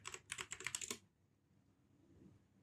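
Password being typed on a computer keyboard: about a second of rapid, close, crisp key clicks in an uneven rhythm, then a quiet room with faint background hiss.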